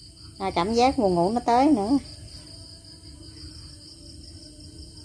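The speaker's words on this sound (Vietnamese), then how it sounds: "Nghe tiếng dế kêu, nó kêu e e e e e," Crickets chirp in a steady, high, continuous drone on a countryside night in Vinh Long, Vietnam, faint in the background while someone speaks briefly and then falls silent.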